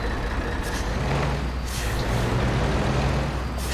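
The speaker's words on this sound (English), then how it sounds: "leave the truck, this thing's noisy as hell though" Military truck engine in the tactical shooter Project Reality: a loud, steady low diesel drone with rumbling throughout and a faint hiss of air near the end, no voices over it.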